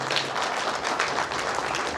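An audience claps for an honored community worker, a steady crowded patter of many hands, fairly close and even in loudness from start to finish with no talk over it.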